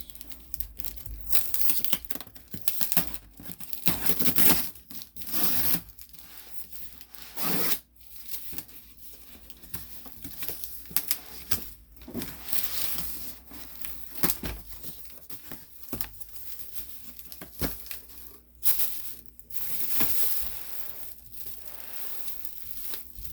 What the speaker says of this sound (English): let me unwrap what's in the box